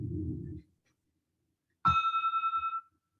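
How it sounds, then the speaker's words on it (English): A single bell rings clearly to open a weekly meeting, its tone sustaining and fading over about a second, following a brief moment of talk and a pause of silence. "I want to start like every time with a bell."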